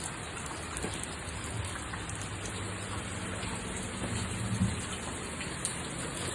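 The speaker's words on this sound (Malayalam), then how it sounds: "നല്ല മഴ പെയ്തോണ്ടിരിക്കുന്നു" Heavy rain pours down steadily, a dense, continuous hiss of drops drumming on surfaces with no pauses.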